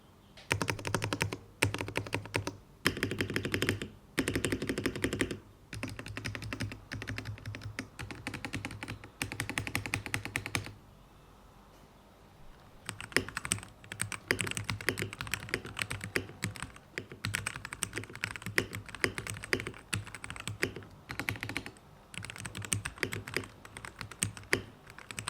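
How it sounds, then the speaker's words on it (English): Rapid, quiet clatter of typing on a keyboard fitted with iRock custom red linear switches, close up, in bursts with a brief pause midway before resuming steadily. "iRock custom red switches also provides a great typing experience. They are linear switches, which are quieter."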